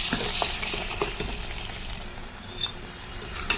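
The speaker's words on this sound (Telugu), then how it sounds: "దీనికి కూడా బాగా కలుపుతున్నాం" Tomato and masala paste with green mango sizzles in a hot pan while being stirred, a close steady frying hiss with scraping clicks of the spoon, fading slightly toward the end.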